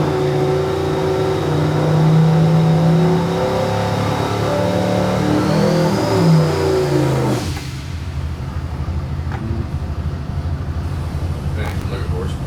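A car engine revs on a dyno during a half-throttle pull, a loud rising mid-pitched drone that climbs steadily then cuts off abruptly to a lower idle-like rumble, with voices faintly underneath.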